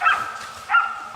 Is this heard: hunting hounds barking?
yes